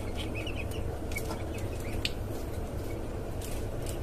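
Caged tiger chickens, new young hens not yet laying, cluck on a farm in modern cages: short, scattered clucks and soft calls over a constant low background hum, with no talking.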